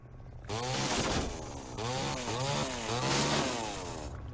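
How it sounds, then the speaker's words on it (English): Chainsaw in the Evil Dead: Regeneration video game roars loudly and continuously, revving and cutting through wooden barricades with a dense, buzzing drone that surges several times. "Now that I have the chainsaw, I can break through these barricades"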